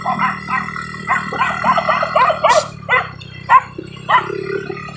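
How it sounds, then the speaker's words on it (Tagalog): A dog barks repeatedly in short, irregular bursts, fairly close, on a farm-to-market road, over a low steady engine-like hum. "Habol tayo ng aso."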